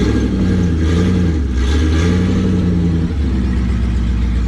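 An LS1 V8 swapped into a Nissan Patrol runs loud and close with a deep rumbling idle, its revs rising and falling a little with a faint clatter.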